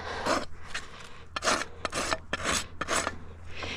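A hoof rasp files the jagged rim of a miniature pony's hoof in about seven quick, rough scraping strokes, close up and alone.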